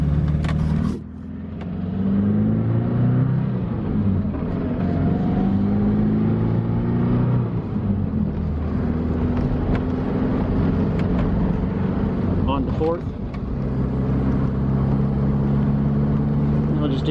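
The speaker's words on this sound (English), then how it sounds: "see if we can't get through the gears for you at least." A 1977 Triumph TR7 coupe driving on the road, its engine droning and rising in pitch through successive gear changes with short dips between shifts, heard from inside the car as a driver talks over it.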